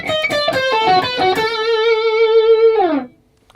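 Distorted electric guitar plays a bluesy rock lick: a quick run of picked notes, then a long held vibrato note that slides down at the end, loud and alone.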